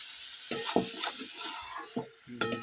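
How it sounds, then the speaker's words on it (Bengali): Small chun fish go into hot spiced oil in a village kitchen, giving a steady crackling sizzle broken by sharp bursts of stirring and pan scrapes. "মশলা থেকে তেল ছাড়ছে, এবার মাছটা দিয়ে দেবো।"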